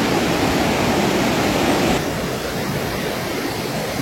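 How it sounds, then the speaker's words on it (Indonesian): Fast-flowing river rushing beneath a bridge in Kinabalu Park, a loud, steady broadband roar of water that holds constant with no voices. "Ini ada jembatan lewat sungai yang cukup deras"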